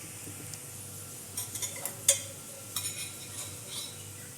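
Oil poured over urad dal in a pan sets off a soft sizzle, with a cluster of light clinks and scraping stirs from a spoon in the middle.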